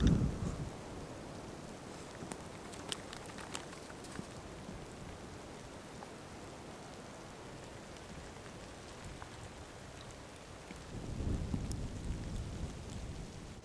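Rain and gusting wind outside a camper van on a cold night in the Jura, a soft continuous wash with a few brief sharp ticks and louder low gusts at the start and near the end, fairly faint overall.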